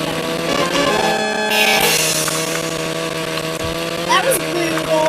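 A lawn mower in a video game runs with a buzzing, chainsaw-like engine drone, overlaid with other game sounds and sweeping effects, while people talk over it.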